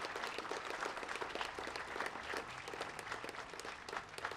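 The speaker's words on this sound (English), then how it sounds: "this is your Ames City Council, so let's give them a big round of applause" An outdoor audience at an Ames Municipal Band concert gives the Ames City Council steady, moderately distant applause that stays even throughout.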